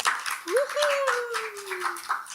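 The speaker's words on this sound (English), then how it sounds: "Let's give him a big round of applause." An audience at a poetry evening claps and cheers to welcome a new performer, with a long rising-then-falling whoop over the scattered, steady clapping.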